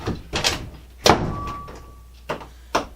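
Door hardware on a privacy interior door gives several sharp clicks and knocks as the latch engages, close by and spaced irregularly, with a faint steady tone in the background.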